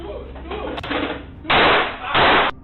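Gunshots fired during an armed robbery at a shop in South Africa: a few loud, sharp, close blasts with a brief crack between them, each burst ringing out briefly.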